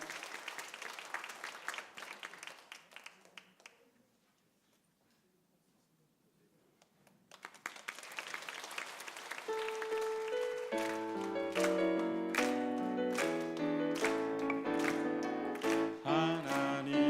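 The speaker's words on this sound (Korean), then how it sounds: "우리 귀한 김리우가 축복 많이 받도록 박수를 한번 크게 치겠습니다." A church congregation applauds during a Sunday worship service, a broadband patter of clapping in the opening seconds, then a pause before organ or piano music swells in with a hymn.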